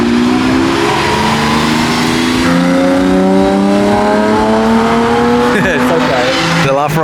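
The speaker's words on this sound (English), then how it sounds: "The LaFerrari is leaving." A Ferrari LaFerrari supercar revving loudly and pulling away from a supercar meet, its engine note climbing through several rising sweeps close by, with people talking over it.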